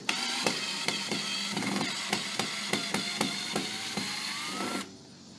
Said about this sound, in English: I'm removing this particular screw because it was stripped.